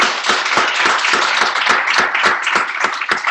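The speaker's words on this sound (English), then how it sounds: "If we could just give them a round of applause." An audience claps after a talk at a university event. The clapping is close, loud and steady, with distinct individual hand claps all the way through.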